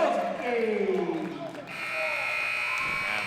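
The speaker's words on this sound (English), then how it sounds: "buzzer sounds" At a girls' varsity high school basketball game in a gym, the final buzzer sounds as a long, steady electronic tone over crowd noise while a commentator talks.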